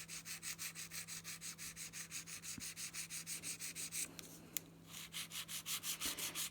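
An acrylic nail being sharpened with a hand file, a rhythmic back-and-forth rasping of about four strokes per second, close and steady, with a short pause and a faint tap midway.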